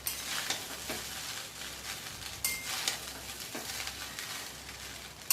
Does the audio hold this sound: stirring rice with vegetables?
yes